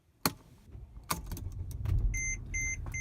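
A 2007 Mercedes ML320 with a 722.9 transmission gives a couple of sharp clicks, then its engine turns over and settles into a low running rumble, with electronic warning chimes beeping near the end.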